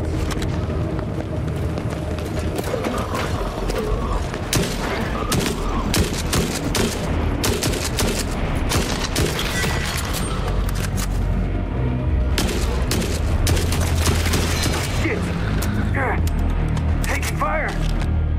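Gunfire in the video game Forever Winter, dense rapid bursts of shots and sharp cracks rattling almost continuously with heavier booms underneath, loud and close, while a voice talks over the fighting.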